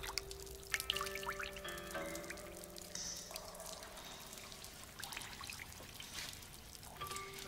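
Water drops falling in a scene from the 2002 film Hero, with quiet, scattered plinks and drips over a soft, faint background wash, irregular and close.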